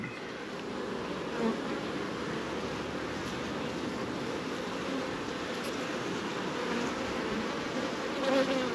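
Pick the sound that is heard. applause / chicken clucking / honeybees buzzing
honeybees buzzing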